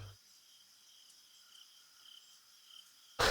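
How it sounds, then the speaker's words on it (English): Night ambience from the Everlasting Summer video game: crickets chirp steadily at low volume, a faint continuous insect trill with slight pulsing, with no voices present. "One could hear chirping crickets, the songs of the night birds, and rustling trees from everywhere."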